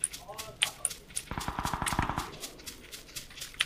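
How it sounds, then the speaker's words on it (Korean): Gunfire in the game PUBG sounds as a fast, distant burst of automatic shots in the middle, with scattered single shots around it and players talking over it. "총소리 들리지?"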